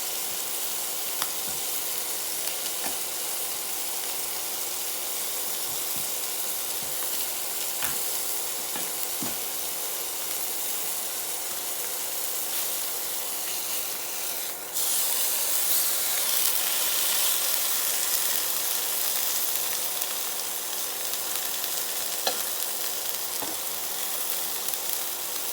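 Crushed garlic cloves sizzle in a hot pan alongside roast beef, a steady broadband frying hiss that runs continuously and brightens partway through, with occasional small crackles and stirring clicks.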